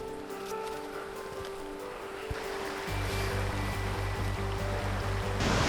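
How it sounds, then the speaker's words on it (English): A small waterfall and stream pour out of a cave in the hills, giving a steady rushing water noise that swells louder partway through, with a faint tonal hum underneath. "That's a little waterfall, eh?"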